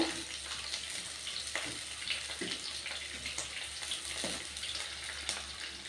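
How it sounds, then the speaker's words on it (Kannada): Onions frying in hot oil after mustard seeds have popped, for a fish curry; a soft continuous sizzle with scattered light crackles and stirring clinks, fairly quiet and close. "ಈಗ ಸಾಸಿವೆ ಎಲ್ಲ ಸಿಡಿದಿದೆ ಈರುಳ್ಳಿ ಹಾಕೋತಾ ಇದ್ದೀನಿ ಈರುಳ್ಳಿನ ಸ್ವಲ್ಪ ಬಾಡಿಸ್ಕೋಬೇಕು"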